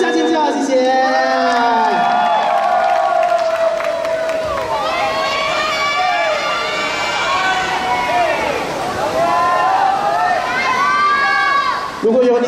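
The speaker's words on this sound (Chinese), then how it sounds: "掌声加尖叫" Crowd at a school street dance club showcase screaming and cheering for a dance performance, loud high-pitched shrieks and whoops rising and falling over roughly twelve seconds, close and sustained with little clapping audible.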